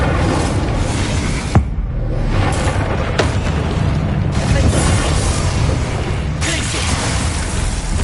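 A fire spell cast in Hogwarts Legacy on PS5 bursts with a sharp crack followed by a roaring whoosh of flame, set against loud, continuous game effects and rumbling.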